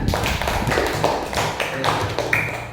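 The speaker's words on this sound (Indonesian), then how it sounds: "Tepuk tangan buat kalian." Students clapping in a classroom after a social studies lesson, a loose run of sharp claps and taps spread through the space, mixed with faint voices and classroom murmur.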